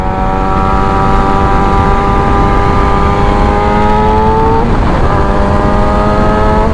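A 2017–2021 Yamaha YZF R6 rides through a turn, its high-revving inline-four engine screaming loud and steady with a brief dip and recovery in pitch mid-corner, heard close from the rider's position.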